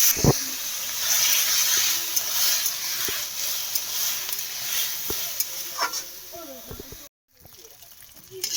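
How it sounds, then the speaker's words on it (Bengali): Chopped vegetables and chickpeas fry lightly in oil, a soft steady sizzle with occasional stirring clicks, briefly cutting out before resuming. "এগুলো এখন দেবো তেলের উপরে হালকা একটু ভেজে নেবো একদম হালকা করেই ভাজবো"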